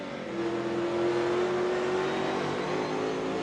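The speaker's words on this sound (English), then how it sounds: "Listen to that throttle." A NASCAR Cup Series race car engine drones steadily at high revs during the All-Star Race, a sustained whining roar that holds throttle without pause, heard at moderate distance.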